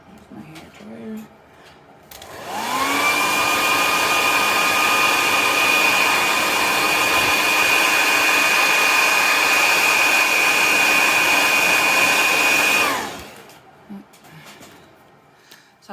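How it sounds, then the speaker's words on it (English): A handheld hair dryer, used for drying Posca paint on a rock, switches on after a quiet moment, blows with a steady high whine for about ten seconds, then cuts off, close and loud. "So, here's my hair dryer."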